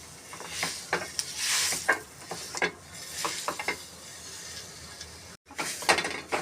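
Dates roast in a pan, stirred with a scraping utensil that gives soft sizzling and uneven rubbing strokes, close up, with a brief gap near the end.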